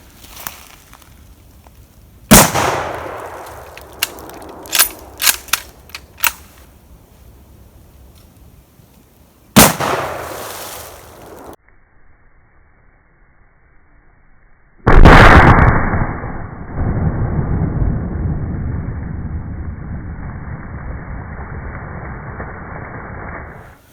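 Two loud 7.62x54R silver-tip rounds from a long-barreled heavy rifle fired into a tree outdoors, each a sharp close blast with a crackling tail, followed by a sustained noisy rumble.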